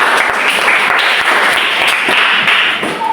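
An audience applauds a group of teachers in a classroom setting, a steady dense clatter of many hands clapping throughout, fairly loud and close.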